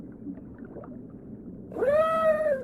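A whale calf gives a single drawn-out tonal call, harmonic and slightly falling, that rises suddenly out of a low, murky underwater rumble near the end.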